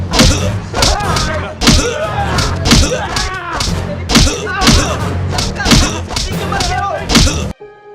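A man is beaten in a Hindi film scene: heavy thuds and smacks land in a steady, rapid rhythm, loud and close over a dense, busy soundtrack, ending abruptly.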